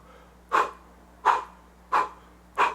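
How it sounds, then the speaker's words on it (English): Four short, sharp puffs of breath blown out through the lips, as when blowing out candles, form a vocal breathing exercise. The puffs are evenly spaced and close, with quiet between them. "as if you're blowing out 5 candles. And do that over and over."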